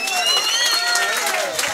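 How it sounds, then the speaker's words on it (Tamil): Audience clapping and cheering at an open-air village performance of the Tamil folk drama Valli Thirumanam, a dense burst of applause that runs the whole moment, with voices mixed into the crowd noise. "ஒரு கைதட்டு கொடுக்கலாம்."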